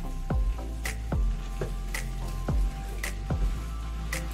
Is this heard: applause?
no